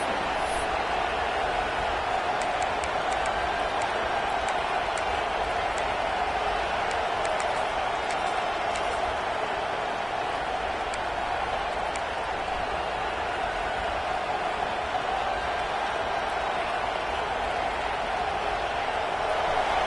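Steady roar of a large football stadium crowd during a late defensive stand, loud and continuous with a broad wash of cheering and a few faint whistles or claps above it, no clear talk.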